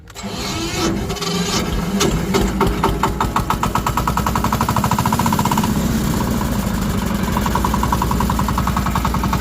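Motor-tractor engine starting and then running, a rough chugging start that settles into a fast, even, loud rhythmic putter close by.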